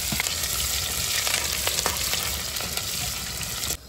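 Cumin, chilli and garlic frying in a kadhai crackle and sizzle loudly and continuously, with scattered pops and light stirring, with no talk.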